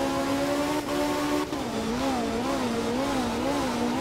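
Rally car in Art of Rally on a wet Australian Group 4 stage, its engine note rising and falling steadily at close range for four seconds, with a shift or throttle lift partway through and no talking.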